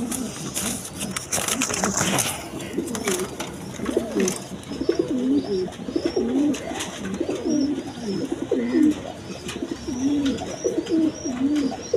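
Breeding pigeons coo repeatedly at close range in soft, rhythmic throaty phrases, with voices talking over the first few seconds.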